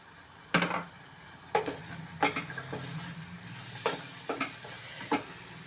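Green peas and spices are stirred in a frying pan over the heat, with a steady sizzle under about seven sharp spoon scrapes and knocks against the pan, close up and without speech.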